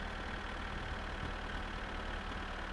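Tractor engine idling steadily in the video game My Summer Car, a continuous low hum without pause.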